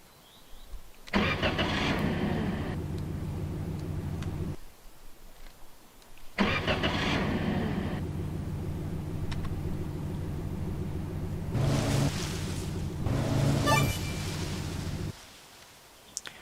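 Car engine in the video game Offroad Mechanic Simulator cranking and catching repeatedly, with several bursts of rumbling running separated by short silent gaps, loud and close with no talk.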